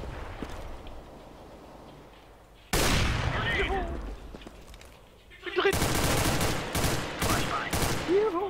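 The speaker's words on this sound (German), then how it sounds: "Flashbang." Loud bursts from a Counter-Strike: Global Offensive match: an abrupt explosive blast, likely a flashbang grenade, with sharp gunfire cracks following. Voices talk over the game sounds.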